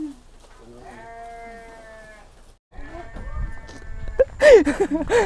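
Sheep bleat in a village setting, a few close, loud wavering calls near the end following quieter tonal animal sounds, with faint background talk.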